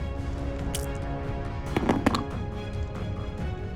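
Dice rolled during a Marvel Dice Throne tabletop match, Loki versus Ninja: a brief clatter of several dice tumbling and knocking together, sharp clicks clustered in under a second over steady background hum, close and moderately loud.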